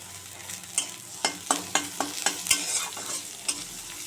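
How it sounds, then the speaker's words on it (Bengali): Garlic and onion frying in a wok, with a steady sizzle broken by a run of sharp spatula scrapes and clacks in an uneven rhythm, close and fairly loud, no voices. "এবার আমি রসুনটা দিয়ে দেবো।"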